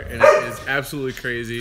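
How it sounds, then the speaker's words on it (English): A dog barks a few times close by, with golden retrievers and an Australian shepherd present, while a person speaks over it. "Sorry for the barking."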